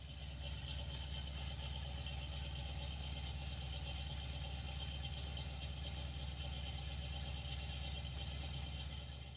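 A car idles with a steady low engine drone and faint rattle as it is pulled into a garage after front brake caliper, pad, rotor and brake line work, close and constant with no talking.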